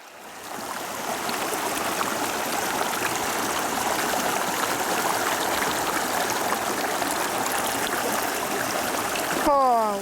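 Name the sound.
river stream flowing at gold prospecting site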